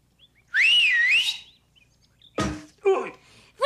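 A single loud, wavering whistle rising and falling in pitch, followed by a couple of sharp knocks and brief noisy bursts.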